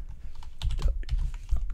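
Rapid, uneven typing on a computer keyboard with clustered key clicks and a few heavier strokes, close and fairly loud, with no talk over it.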